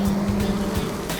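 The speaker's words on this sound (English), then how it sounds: "Shut up, car. Motorcycle, whatever you are." A car or motorcycle going past outdoors near a grill where bison burgers are cooking, a brief steady engine drone heard at moderate distance.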